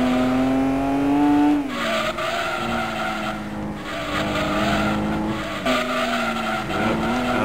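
A race car engine in the video game Gran Turismo 2 drones and whines steadily, pitch shifting as it accelerates and eases off, with tire squeal, loud and continuous.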